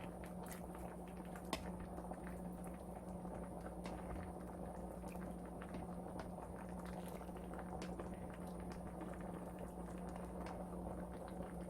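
A pot of Korean pork bone soup (gamjatang) boils quietly, a soft continuous bubbling and popping with no talking.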